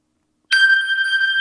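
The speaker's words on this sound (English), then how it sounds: "starts ringing my phone, which is a pretty nice feature" A smartphone ringtone, set off remotely by a Motorola Moto Tag, starts abruptly after half a second of silence and rings on as a loud, steady electronic tone with no talking.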